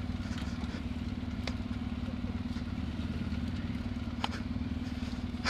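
A 2020 off-road motorcycle, either a Yamaha XTZ 750 or a Triumph Tiger 900, pushes through a narrowing muddy rut with a steady, fairly quiet engine drone and occasional clatter, with no talking.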